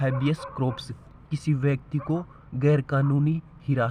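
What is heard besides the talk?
No everyday noise stands out behind the speech.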